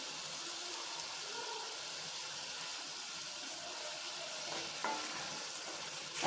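Liver and tomatoes being stirred in a karahi for a restaurant-style kaleji karahi, a steady broadband sizzle with soft scraping of the spoon through the pieces, close and continuous with a slightly louder clack near the end.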